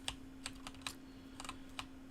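Quiet, close keyboard typing: a handful of light clicky keystrokes in an uneven rhythm over a faint steady hum.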